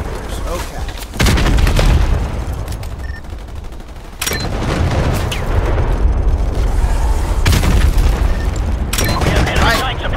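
Detonators set off heavy booming explosions in Call of Duty: Modern Warfare Remastered, several loud blasts a few seconds apart over a constant rumble of gunfire and battle noise, with someone talking over them.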